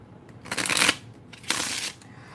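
Tarot cards being shuffled by hand during a live reading, two loud crisp riffling bursts of roughly half a second each, separated by a brief pause, close to the microphone.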